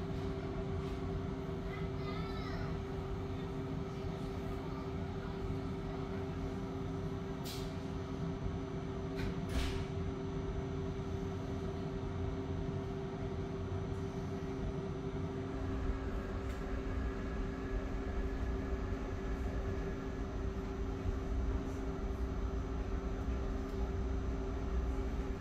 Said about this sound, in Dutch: En deze Intercity gaan we naar Den Haag Centraal.